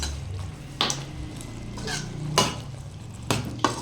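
Grated coconut being stirred into a drumstick stir-fry in a pan: a quiet background hiss carries four distinct scraping strokes of a spoon against the metal, spaced about a second apart, with no talking.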